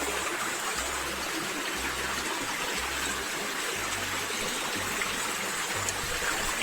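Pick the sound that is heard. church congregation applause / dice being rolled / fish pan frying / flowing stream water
flowing stream water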